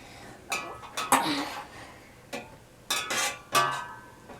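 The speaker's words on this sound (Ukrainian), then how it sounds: "Бери ложку, будеш мішати." A spoon clinks and scrapes against a pot of homemade yogurt being stirred in a few separate bursts, close by, with quiet pauses between strokes.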